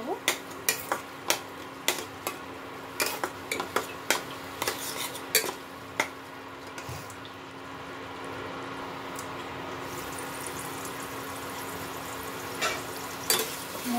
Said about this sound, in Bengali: ধনের গুঁড়ো দিয়ে দেবো। জিরে গুঁড়ো দিয়ে দেবো। এগুলো দিয়ে ভালো মতো মশলাটাকে আমি কষিয়ে নেব।